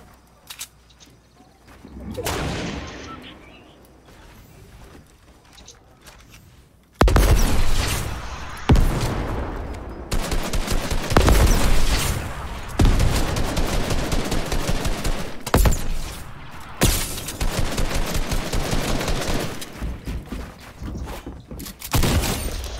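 Rapid bursts of automatic gunfire and booming shots in a multiplayer shooter video game, loud and close, firing in dense volleys with brief gaps between them.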